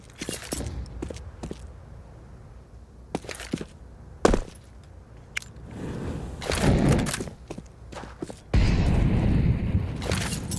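Grenades bounce and explode in a Counter-Strike 2 esports match, heard as sharp cracks and booms scattered among footsteps and shuffling game noise, with a longer rumbling burst near the end.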